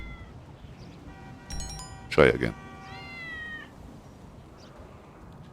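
Cat in the Grand Theft Auto video game giving a couple of clear, close meows in quick succession, with someone talking briefly before and after.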